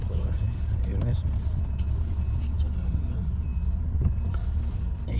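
A Chevrolet car running on propane (LPG) drives along with a steady, loud low engine rumble and road noise throughout, with faint voices in the background.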